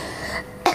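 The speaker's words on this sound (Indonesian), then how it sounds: "Sorry, sambil batuk ya." A woman clears her throat with one short, close cough-like burst after a brief quiet stretch.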